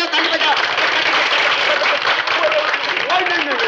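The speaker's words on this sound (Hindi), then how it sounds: "ताली बजाओ ताली" Dense, sustained applause from a crowd clapping at a birthday, loud and close throughout, with voices calling out over it.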